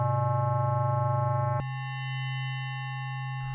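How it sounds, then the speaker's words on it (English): Novation Peak synthesizer tone with oscillator 3 modulating a resonant filter cutoff: a buzzy sustained note that abruptly shifts to a thinner, brighter resonant timbre partway through, steady and alone without voices. "we have a dedicated control which allows oscillator 3 to control the cutoff frequency. So let's increase that and add a bit of resonance there"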